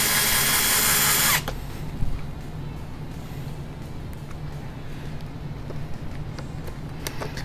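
A power drill whirs loudly for just over a second and then cuts off. Quieter clattering and faint background noise continue afterward.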